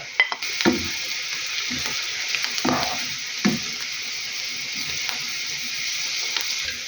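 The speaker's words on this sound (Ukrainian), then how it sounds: "І буду сюди додавати морку, хай трошки теж смажиться" Steady hissing sizzle of onion and carrot frying in a pan, with occasional clinks and scrapes of stirring.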